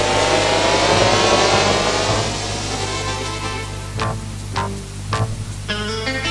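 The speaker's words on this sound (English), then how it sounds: "with a whispered roar, the mighty Batmobile rockets away into the rapidly fading darkness" A Batmobile roars off in a car effect: a loud, sustained engine rush that builds and then fades, followed by a few sharp revs and whooshes near the end.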